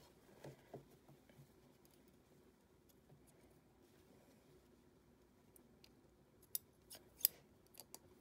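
Scissors trim sewing threads on a fabric cap, giving quiet scattered snips and clicks with a couple of sharper cuts near the end, in an otherwise hushed room.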